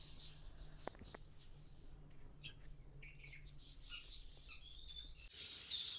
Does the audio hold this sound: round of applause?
no